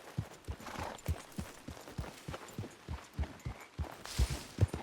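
Horse hooves clip-clop at a steady walking rhythm in Red Dead Redemption 2, a close, evenly spaced series of soft thuds continuing throughout with no talking.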